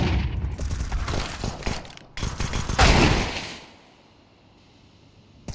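Pistol gunfire in Counter-Strike 2 during a collegiate match erupts in rapid, loud bursts of shots across about three seconds, then fades to near silence.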